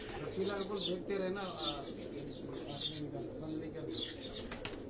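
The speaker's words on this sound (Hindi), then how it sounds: "ये सब उड़ने वाले कबूतर हैं" Rooftop loft of flying pigeons in Karachi's Defence area, with soft cooing and scattered chirps repeating under steady nearby male conversation.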